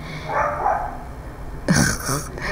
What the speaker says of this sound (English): Excuse the barking dog, kids.